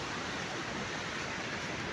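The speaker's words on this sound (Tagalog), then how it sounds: "Ang ganda ng alon" Sea waves along the coast at Padaya Este, Cagayan, heard as a continuous, faint wash of broadband noise without distinct individual breaks.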